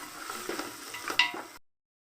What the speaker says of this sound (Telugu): మొత్తం కాస్త మసాలా ఇట్లకి పట్టేదాకా కొంచెం ఫ్రై చేసుకుందాం.